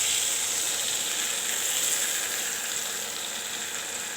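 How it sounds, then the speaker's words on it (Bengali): Vegetables with sidol and pumpkin sizzle loudly in a pan after a little water is added, giving a steady, hissing fry that stays close and strong, easing slightly toward the end. "অল্প জল দিয়ে দিলাম"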